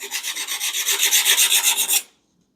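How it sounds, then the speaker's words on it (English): A hand file rasps along the cut edge of a backsplash tile in about a dozen quick, even back-and-forth strokes, close and crisp, then stops into silence. "that's just the file doing its job"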